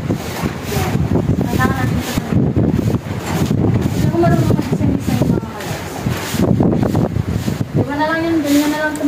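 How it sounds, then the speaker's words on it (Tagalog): Strong wind from Typhoon Uwan buffets the microphone in loud rumbling gusts while someone talks over it, with splashing seawater that has flooded a house in the background. "Malakas pa rin yung hangin."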